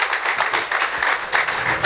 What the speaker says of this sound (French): on peut l'applaudir, s'il vous plaît